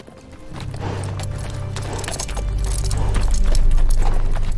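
Steady hoofbeats clip-clop from a horse in a Game of Thrones episode, a loud, close, even rhythm that grows slightly louder over a low rumble.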